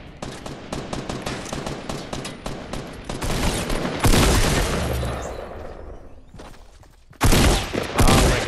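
Rapid automatic shotgun fire in a video game, loud close bursts of repeated blasts building into a dense barrage, a brief pause, then another heavy volley.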